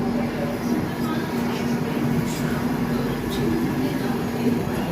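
A train rolls steadily throughout, a constant low rumble with a droning hum, heard from inside the carriage. Faint background voices sit beneath the noise.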